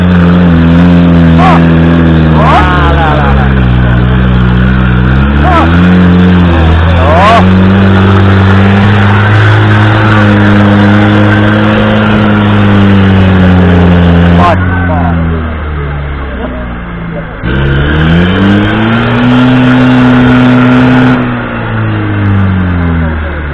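An off-road vehicle's engine revs repeatedly, rising and falling in pitch through several loud, close pulls over about twenty seconds, with people talking over it at times.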